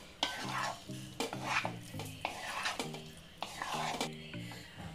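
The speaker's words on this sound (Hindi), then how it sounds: "अब मैं इसको अच्छे से मिक्स करूंगी" Capsicum and onion for white pasta are stirred in a pan, with a rhythmic run of close scraping strokes over a light sizzle, roughly two strokes per second.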